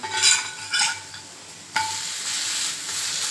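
A ragi adai on a hot pan is scraped loose with a spatula and flipped. A couple of scraping sounds come first, then the sizzle rises sharply and stays steady, close by and without speech.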